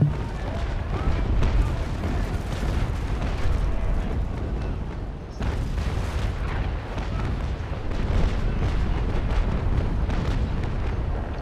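Heavy naval cannon fire in a sailing-ship battle, a dense, continuous barrage of loud booms rolling one into another with a brief dip midway and occasional voices underneath.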